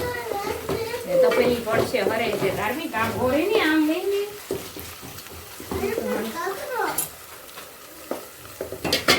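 Green chilli paste hitting a hot pan for shing bhajiya curry, a loud sizzle with busy stirring and scraping, fading and flaring again, while people talk over it.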